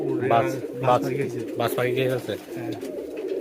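Giribaj pigeons coo close and loud in repeated throaty, rolling phrases, with people's voices mixed in among the calls.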